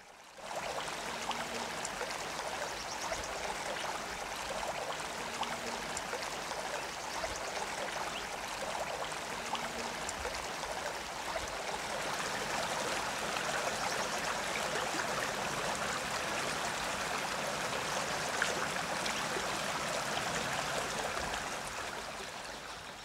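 Flowing water where a European turtle, just out of hibernation, takes its first bath of the season: a steady, unbroken wash of running stream water, fairly close and constant in level, with no voices.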